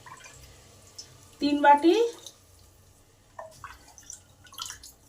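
Water is poured from a bowl onto rice in a pressure cooker for hotel-style fried rice. It comes as one short splashing pour between brief spoken words, with quiet kitchen background around it.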